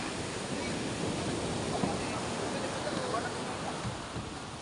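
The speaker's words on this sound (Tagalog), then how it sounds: "Oh, lakas pa na agos. O, lumalaking alon." Strong ocean current and building surf during lobster gathering, a continuous broad wash of waves and wind noise, with a person speaking over it.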